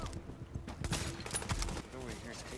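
Rapid video game gunfire sounds off in a shooter set in Grand Central Station, with a quick cluster of sharp shots over busy background game effects, played fairly quietly.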